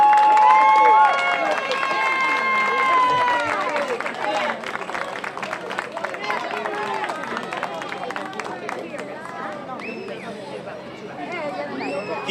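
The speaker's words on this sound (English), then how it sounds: "That deserves a round of applause." Applause mixed with cheering and crowd chatter at an outdoor National Night Out community gathering, a steady, dense wash of clapping and voices lasting throughout.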